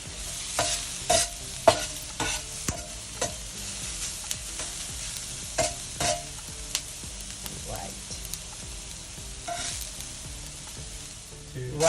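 Masala fish frying in oil in a pan, giving a soft continuous sizzle broken by sharp scraping clicks of a utensil stirring and turning the pieces at irregular intervals, fairly faint with no talking.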